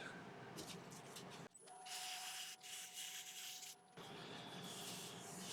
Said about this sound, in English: So just give this a little sand.